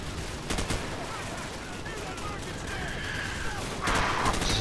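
Gunfire in the video game Call of Duty: Modern Warfare, a few sharp shots near the start, then a low rumbling battle bed with a brighter burst near the end.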